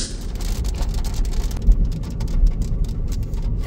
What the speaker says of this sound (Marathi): एवढा भयानक पाऊस पडतोय.